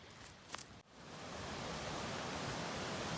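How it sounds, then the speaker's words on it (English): A steady broadband rush of a distant waterfall near Pinto Lake, constant and hissing, swells after a brief rustle and then holds even. "now you can hear the falls over there"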